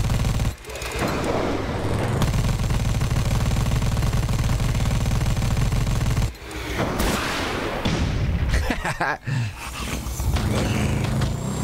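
Rapid automatic gunfire in the video game Dead Rising 4 rattles loudly in long bursts with booming impacts and brief pauses, sounding dense and close throughout.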